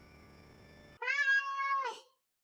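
A person imitates a cat's meow: a single drawn-out, tonal mew lasting about a second, rising then fading, clear and close after a quiet lead-in.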